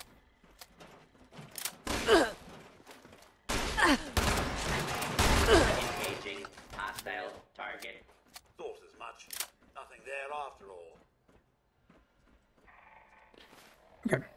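Shotgun blasts in the video game Fallout 76, a few loud, sharp reports spread across the stretch amid game effects, with a voice talking intermittently.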